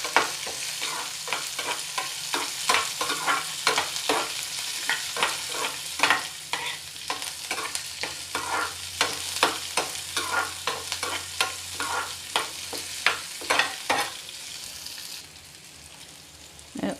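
Chopped onions frying in a pan while being stirred, a steady close sizzle punctuated by frequent rhythmic scraping clicks of the spoon against the pan, continuing for many seconds without talk before the stirring stops.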